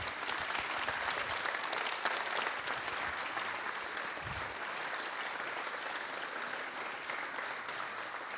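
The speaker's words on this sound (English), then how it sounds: "Give a big hand of applause for Gabor Steingart." Audience applause for Gabor Steingart at a leadership talk, steady dense clapping from a large crowd throughout, fairly distant and even, with no speech over it.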